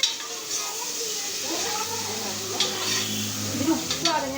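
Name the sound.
stirring a curry in a pan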